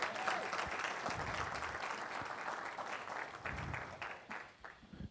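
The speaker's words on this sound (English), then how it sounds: "let's give her a round of applause" A church congregation at a Chicago tour stop gives the pianist a warm round of applause, a soft, steady wash of many hands clapping that fades slightly toward the end.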